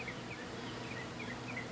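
Honeybees buzzing inside a bucket during a cut-out removal in Haines City, Florida, a continuous faint droning hum from the crowded swarm with no talk.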